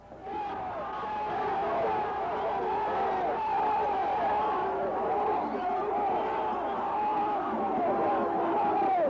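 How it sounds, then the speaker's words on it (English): Crowd of fans at Metro Airport cheering as the Michigan football team arrives after beating Ohio State in 1976: a steady, dense roar of many voices and shouts, loud and sustained throughout. "When they landed at Metro Airport, there were the fans again, waiting to cheer their heroes."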